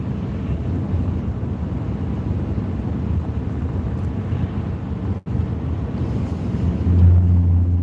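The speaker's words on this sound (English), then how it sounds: "if it's a constant wind, hang on to your hats" Steady, roaring wind in Kansas buffets the microphone in a broad low rumble, with a brief dropout and a stronger gust swelling near the end.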